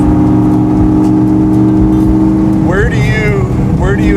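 A 1967 Ford Mustang Fastback engine drones loudly and close at steady revs, then climbs sharply in pitch as it revs harder near the end, with a voice speaking briefly over it.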